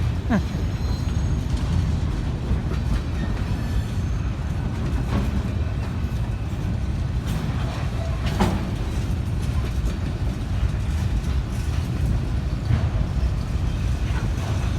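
A heavy BNSF freight train rumbles continuously past in Tupelo, Mississippi, with rolling wheel noise and occasional clanks and faint squeals, steady and fairly close.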